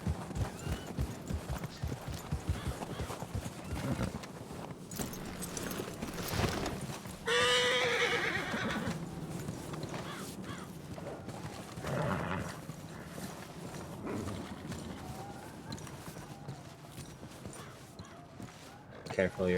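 Horse neighing and hooves clip-clopping in a Western roleplay video game, with steady hoofbeats throughout and a clear whinny partway through; people talk over the sounds.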